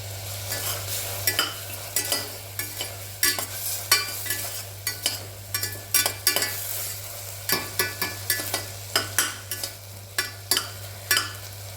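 Finely chopped carrots and beans sauté in a pan for vegetable nombu kanji, with a steady sizzle under regular, rhythmic scraping strokes of a spoon, close and fairly loud, with no talking.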